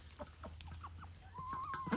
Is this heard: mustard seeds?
no